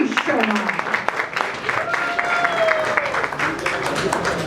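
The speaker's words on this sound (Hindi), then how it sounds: "जोरदार तालियां हो जाएं" Audience clapping steadily at a film trailer launch event for actor Ashish Sharma, a dense round of applause from a crowd in a hall, with a voice speaking over it.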